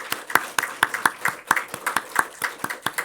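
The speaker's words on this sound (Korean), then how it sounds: "우리가 박수 한번 칩시다." Steady rhythmic clapping from a church congregation, sharp evenly spaced claps keeping a brisk beat for a few seconds, loud and close.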